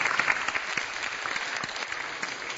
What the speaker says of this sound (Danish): Det kan vi godt klappe lidt af